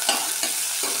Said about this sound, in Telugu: బాగా ఫ్రై అవ్వాలి అది ఎర్రగడ్డలు.